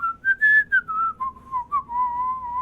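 Person whistling a wavering, eerie tune to imitate a floating green pirate ghost, a series of clear sliding notes rising and falling in short phrases, close and alone.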